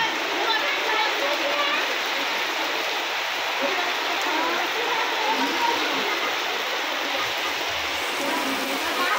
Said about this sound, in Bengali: বৃষ্টি খুব কাছে এগিয়ে আসছে, মানে বর্ষাকাল।